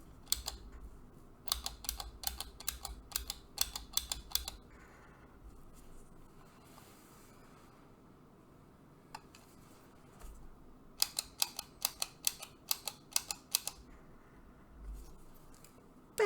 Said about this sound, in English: I know the clicking is not necessarily for everyone